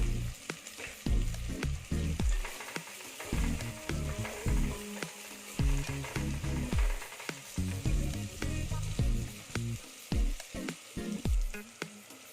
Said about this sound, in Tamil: கொஞ்சமாக உப்பு போட்டுருவோம் நல்லா வதங்கட்டும்